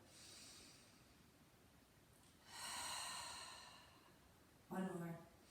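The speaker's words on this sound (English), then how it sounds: "Take a deep breath in through the nose. Exhale out the mouth." A slow, deep breath drawn in through the nose and released out through the mouth during a seated yoga breathing exercise, soft and close, with a louder, sharper exhale at the end.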